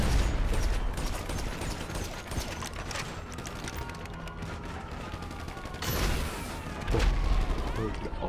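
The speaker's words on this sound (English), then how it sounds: "He's shooting a sniper. I'm over here shooting a grenade." Grenade and sniper fire in Grand Theft Auto V online, with blasts and sharp shots echoing among steady game noise, including two louder bursts toward the end.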